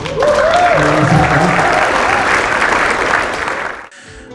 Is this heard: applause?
yes